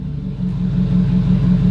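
Car engine fitted with a new turbo and new exhaust parts, idling steadily on its first start, a loud, even low rumble with a regular pulsing throb throughout and no talking.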